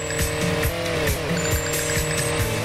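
Video game engine sound of a jet ski in Jet Ski Rush on Switch, a loud, continuous buzzing whine with shifting pitch and rhythmic bumps, steady throughout with no voices.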